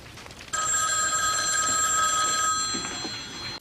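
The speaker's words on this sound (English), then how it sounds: "Phone's gonna ring?" A telephone rings in the horror film Silent Night, Deadly Night III: Better Watch Out!, a single loud, continuous bright electronic ring lasting about three seconds after a short quiet lead-in.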